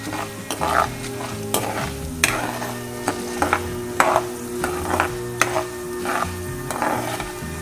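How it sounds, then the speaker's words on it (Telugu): Coriander seeds fry and sizzle in a pan for ginger chutney, with steady crackling under repeated scraping stirs of a spoon against the pan. "ధనియాలు కూడా అందులో వేసుకొని అవి కూడా కొంచెం వేయించేసుకుందాము"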